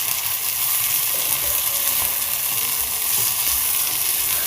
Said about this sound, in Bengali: আর দেখো আলু ভাজাটা হতে থাক